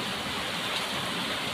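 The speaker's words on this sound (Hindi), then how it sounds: "आपको दिखाते हैं हम कितनी तेज बारिश हो रही है" Heavy rain pours down steadily outdoors, a dense, even hiss of falling water that stays loud and constant throughout, with no voices.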